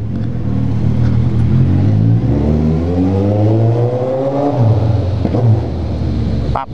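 A motorcycle engine revs up loudly with a rising whine, drops briefly as the gear changes without the clutch, then pulls again, close and continuous.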